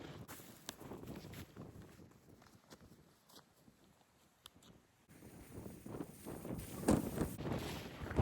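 Strong gusting wind on the Long Mynd hilltop in the UK buffets the microphone in rough, rumbling surges that fade and then swell louder toward the end.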